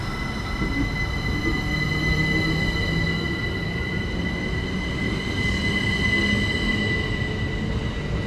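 Class 377 electric unit 377-703 departing Purley Oaks station on the Caterham branch, a loud steady rumble of wheels on rail with a sustained high metallic squeal and whine running continuously.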